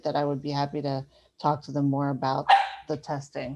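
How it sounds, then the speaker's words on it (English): A puppy barks in the background, with a short sharp bark under a person's steady, close speech that continues throughout. "And I have a puppy here, so I apologize for the noise behind me."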